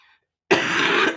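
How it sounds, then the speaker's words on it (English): A person's short coughing fit: a loud, harsh, sustained burst of coughs up close, then one final sharp cough at the end, following a brief moment of silence. "had a little coughing fit"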